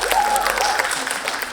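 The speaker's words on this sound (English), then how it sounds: "You can clap." A short burst of audience clapping during a Pecha Kucha talk at a KOTESOL 2013 conference, fairly loud and dense, with a few faint voices mixed in.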